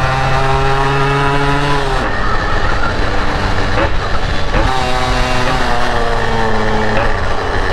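A Yamaha RXZ motorcycle ridden at night, its two-stroke engine and exhaust rising and falling in pitch through several gear changes, loud and close with a rasping buzz.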